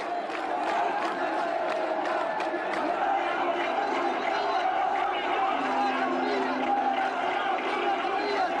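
A large enthusiastic crowd in Tripoli roars and shouts continuously, a dense wall of massed voices held at a steady, loud level throughout.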